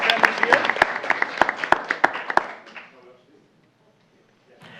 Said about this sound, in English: Round of applause for our families here.